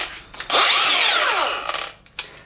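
An angle grinder cuts off metal on a kit car while a fuel tank is being fitted, a loud close whine that rises and falls over about a second, with short taps and scrapes before and after.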